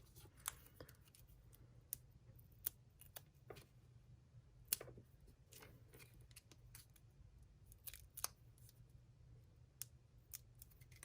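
Sharp scissors snip foam adhesive strips during a card-making class, a dozen or so quick crisp clicks scattered irregularly over a quiet low hum, close and fairly faint, with no talking.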